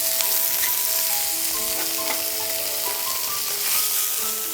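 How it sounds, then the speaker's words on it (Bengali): Chicken pieces sizzle steadily in hot oil in a pan, a loud, continuous hiss and crackle with a few faint clinks and tones mixed in, and no voices. "আমার তেলটা গরম হয়ে গেছে, কাজেই আমি এখন প্রথমেই দিয়ে দিচ্ছি যে চিকেনটা ছিল সেটা।"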